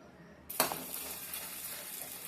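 Gond pieces hit hot ghee in a kadai and burst into a sudden loud sizzle about half a second in, then settle into a steady, close frying hiss that continues to the end.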